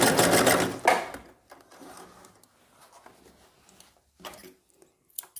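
Sewing machine stitching fabric on a straight skirt, a loud rapid burst that stops abruptly, followed by quieter clicks and brief short runs of stitching.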